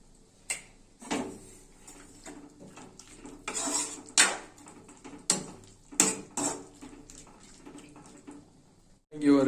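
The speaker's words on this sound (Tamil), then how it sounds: "நல்லா மிக்ஸ் ஆகிற அளவுக்கு நல்லா கிண்டணும்." A spoon stirs radish sambar in a metal pot, scraping and knocking against the sides in a run of sharp, irregular clinks up close, with a faint bubbling undertone.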